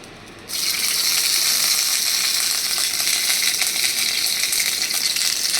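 Oil sizzles loudly and steadily in the kadai just used for frying fish, a dense continuous crackling hiss that starts abruptly after a brief quieter moment and carries on with no talk.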